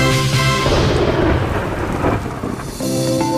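Heavy torrential rain pours steadily during a thunderstorm, with a loud rolling rumble of thunder filling the background throughout and a brief dip before the downpour swells again.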